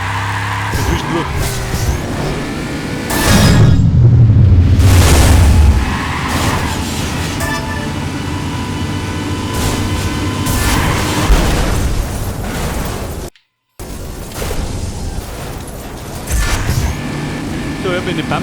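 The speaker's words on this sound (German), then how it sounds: "So, ich hab in den Baum geschossen, gell?" A car slams into a tree in the racing video game Burnout Dominator, a loud booming crash with a low rumble at about four seconds, amid continuous engine roar, crunching metal and a brief dropout, with someone talking over it.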